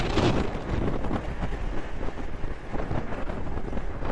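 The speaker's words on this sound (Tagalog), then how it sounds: "medyo malakas yung hangin dito" Strong wind by Laguna de Bay buffets the microphone, a constant low roaring rumble with gusty fluctuations throughout.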